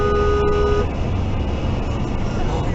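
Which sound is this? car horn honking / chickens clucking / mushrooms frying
car horn honking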